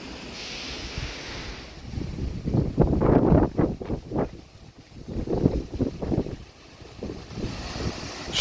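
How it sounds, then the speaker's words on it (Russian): Strong hurricane-force wind in Krasnodar Krai, gusting in waves of roaring, buffeting noise that swells and falls over several seconds, close to the microphone. "Что-то натянет нам этот ветер."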